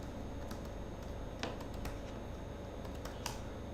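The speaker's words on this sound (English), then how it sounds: "So let's say I'm typing it as," Someone types a git branch command on a computer keyboard, giving a few scattered, crisp key clicks at an irregular pace over a steady low hum, with no talk.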